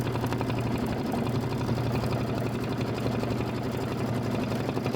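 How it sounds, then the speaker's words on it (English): Embroidery machine stitching a quilt block, a steady rapid mechanical whirring and needle-tapping that runs evenly and close throughout, with no voices. "And this is 6 minutes of stitching"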